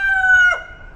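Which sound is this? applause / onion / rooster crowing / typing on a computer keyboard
rooster crowing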